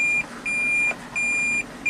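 A Toyota Prius sounds its reversing warning while backing up: a loud, steady, high electronic beep repeating in a regular on-off rhythm, each tone about half a second long, over a low engine and road hum.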